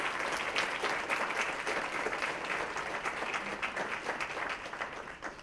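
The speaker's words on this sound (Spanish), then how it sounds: "Un aplauso grande para todo el equipo de UC Mexus" Sustained applause from a sizable crowd at an academic symposium, steady and fairly even throughout, heard at moderate distance without talk.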